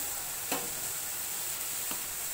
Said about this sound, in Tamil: அதை நல்லா வதக்கிடுங்க. நல்லா அந்த பச்சை இதெல்லாம் போன பிறகு தக்காளி வச்சு கொட்டிடுங்க.